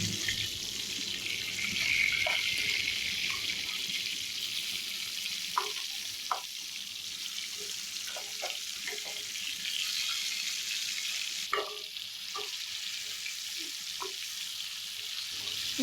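Fish pieces frying in a pan of hot oil for a Tamil seafood fry, a steady hissing sizzle throughout with scattered pops and light clinks, fairly close and with no talking.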